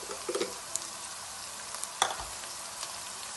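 Ginger garlic paste cooks in a pan with a quiet, steady sizzle, interrupted by a few light clinks and scrapes of a spoon stirring, heard close and soft.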